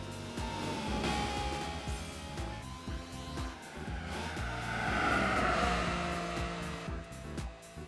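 Honda Beat 1991 small three-cylinder engine roars steadily and loud in Gran Turismo 4, revving continuously throughout with rising and falling pitch as the car drives.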